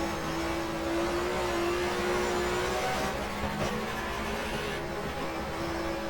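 Touring car engine from the 1994 German Touring Car Cup in the racing game GTR2 at Zandvoort, a loud steady drone held at high revs with a whirring tone throughout, no voices.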